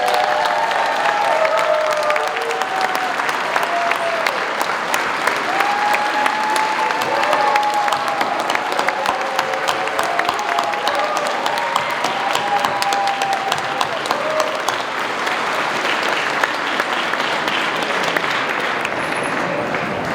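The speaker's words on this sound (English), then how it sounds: "I want everyone to get up and give Grace Lee a round of applause" A large audience at a high school inauguration ceremony gives assemblymember Grace Lee a long standing ovation: loud, sustained clapping with scattered cheers and whoops throughout.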